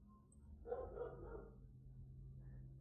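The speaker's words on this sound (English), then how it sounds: "there's the barking dog as usual" A neighbourhood dog barks at a distance, a brief faint burst of yaps over a steady low background hum, with no one speaking.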